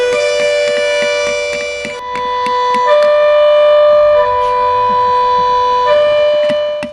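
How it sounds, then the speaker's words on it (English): A loud civil defense siren from a shopping centre roof alternates between a high and a low tone, made by flaps opening and closing alternately, switching back and forth several times in a steady wail. "opening and closing these flaps alternately is how the siren makes the high-low escape"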